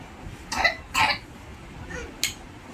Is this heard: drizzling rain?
no